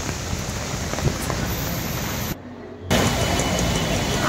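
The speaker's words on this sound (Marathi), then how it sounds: "बघितलंच असेल किती जास्त पाऊस आहे" Heavy morning rain pours steadily on a busy city street, a dense continuous hiss that drops out briefly and then returns, with faint traffic rumble underneath.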